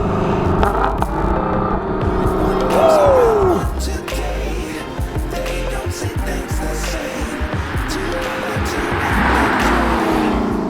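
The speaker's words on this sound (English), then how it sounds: "Just listen to this rev matching." A 2021 Lexus LC 500 Convertible engine blips its revs sharply during downshifts, the exhaust rising and falling loudly with a brief pitch sweep, close and continuous.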